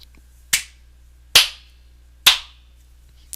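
Three sharp hand claps ring out alone at a slow, steady pace, each crisp and close with a short bright decay into silence.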